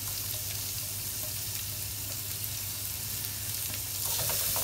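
Small chopped onion pieces fry steadily in a pan with the browned juices left from searing beef for mushroom piccata, a dense close sizzle that swells slightly louder near the end, with no talking.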